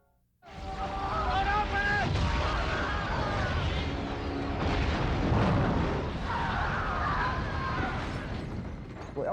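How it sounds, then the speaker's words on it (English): A big explosion in a scene from the 2003 film Alien Hunter erupts suddenly and swells into a long, dense roar, with tonal layers riding over the rumble for several seconds. "I like the big explosion"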